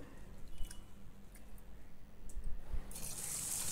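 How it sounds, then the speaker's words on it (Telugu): Basmati rice being washed by hand in water in a bowl, with soft squishing, swishing and dripping sounds close by, growing busier toward the end with a brighter splashing rush. "ఇప్పుడు రైస్లో నీళ్ళు పోసి ఒకసారి శుభ్రంగా కడగండి."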